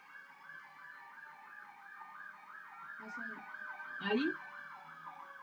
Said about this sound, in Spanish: ¿Ahí escuchan la ambulancia?